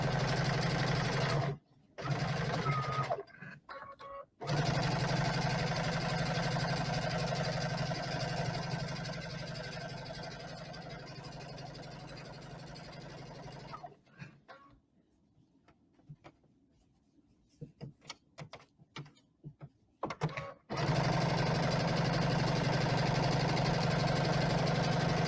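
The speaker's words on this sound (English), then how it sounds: "And now put my foot down again and I will continue to sew." A sewing machine stitches a fleece infinity scarf with a steady, close mechanical whir. It stops for several seconds, then starts again at full speed.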